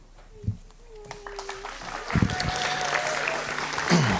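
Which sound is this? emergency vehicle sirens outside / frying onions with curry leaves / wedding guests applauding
wedding guests applauding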